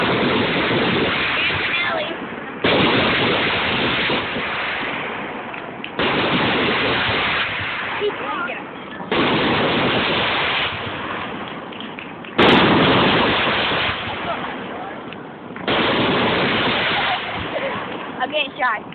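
Fireworks explode continuously in a dense, loud wash of booms and crackling that barely lets up, with a sharp crack near the middle.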